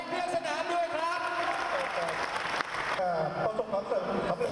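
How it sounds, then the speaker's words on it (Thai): Audience clapping at a basketball club's championship celebration party for the Thailand Basketball League 2018, a brief burst of applause rising under someone speaking over a microphone. "ขอเสียงปรบมือให้ไทยเพื่อสนามด้วยครับ"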